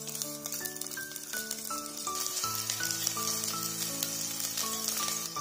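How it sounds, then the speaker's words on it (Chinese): Ginger, scallion and garlic sizzle in hot oil in a clay pot, a steady crackling hiss running the whole time beneath prominent background music. "砂锅中烧上一点油，把它烧热，烧热后倒入姜葱蒜爆香。"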